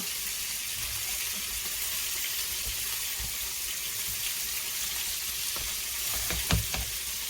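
Flour-coated deer steaks fry in a skillet with a steady, soft sizzle throughout. Near the end a few light clinks and scrapes of utensils against the pan are heard.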